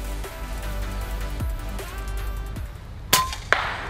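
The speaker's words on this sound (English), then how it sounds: "out comes the FX Wildcat Mark III Compact, shooting the brand new 21 grain Patriot Javelin Gen 2 slugs at 1000 feet per second" An FX Wildcat MKIII Compact .22 airgun fires a 21 grain Patriot Javelin Gen 2 slug at about 1000 fps while pigeon hunting toward roofs, giving one sharp near pop and then a second short crack of impact.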